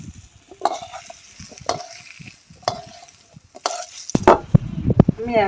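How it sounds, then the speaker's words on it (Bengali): Ridge gourd frying in oil in a home kitchen pan: a few light clinks of stirring, then a louder, denser sizzle that builds near the end, close by with no talk. "আমি এই তেলে ঝিঙেগুলোকেও ভেজে নেব"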